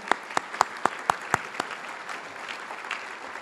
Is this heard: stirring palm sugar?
no